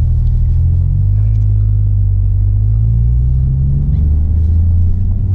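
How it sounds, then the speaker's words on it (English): A 2017 Porsche 911 Turbo S with an aftermarket exhaust rumbles deep and loud from up close, a steady low drone that swells slightly as the engine pulls, with no voices. "that's the best part about this car. It's the exhaust that you put on it."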